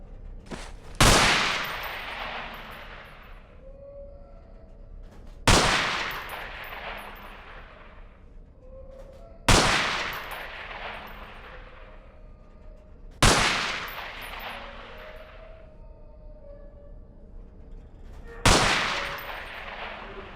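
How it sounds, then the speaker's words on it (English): MP5 submachine gun in the video game Underhell, fired at pop-up targets in a shed: five separate loud gunshot bursts spaced a few seconds apart, each with a sharp crack and a ringing decay, no talk. "Let's get to the submachine guns now. Pick up that MP5."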